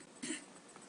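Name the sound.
throat clearing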